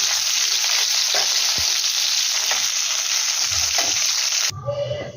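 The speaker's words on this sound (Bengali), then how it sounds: "মাছগুলো আমার ভাজা হয়ে গেছে, আমি এর থেকে বেশি ভাজা করব না" Pona fish fry in hot oil, giving a loud, dense, continuous sizzle close by with a few faint knocks, cutting off abruptly near the end, with no voices.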